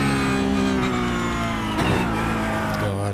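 A Porsche Cup race car in iRacing at Bathurst, its engine droning loud at high revs with a strong harmonic whine and a brief dip around a gear change.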